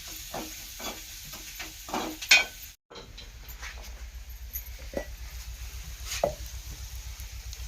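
Garlic and onion frying in a pan give a faint steady sizzle, broken by a few soft stirring scrapes and clinks and a brief silent gap partway through.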